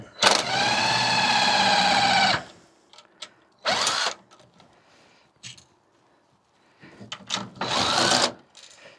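A power tool whirs in sustained bursts lasting a few seconds each while bolts are taken off a compact belt grinder in a garage, with quiet handling noises in the pauses between runs.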